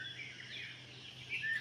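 Early morning birds chirping at Maraiyur, Mayiladuthurai, a faint continuous chorus of high twittering calls in the distance with a brief closer chirp near the end.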